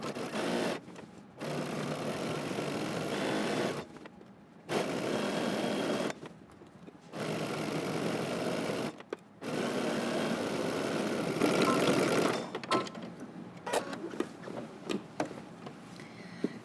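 A sewing machine runs in several bursts, stitching a jacket collar seam at a 5/8-inch allowance, each whirring run stopping briefly before starting again, close and steady.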